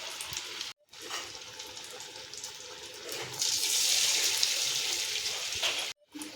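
Cashew kothu fritters made from idli batter deep-fry in hot oil, a steady close sizzling hiss that swells louder midway, broken by two brief silent gaps.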